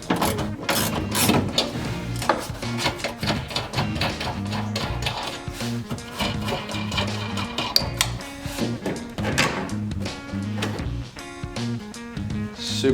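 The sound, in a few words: ratchet with 10mm deep socket removing nuts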